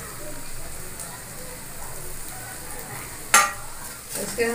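Fried soybean chunks and potato added to hot masala in a pan, a soft steady sizzle with stirring, then a louder sudden burst of frying as the pieces hit the oil, close by.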